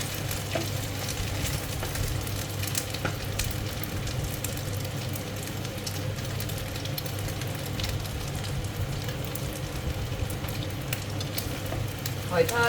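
Thai oyster omelette (hoy tod) batter with oysters frying in a pan, a steady soft sizzle with light stirring throughout, under a faint low hum.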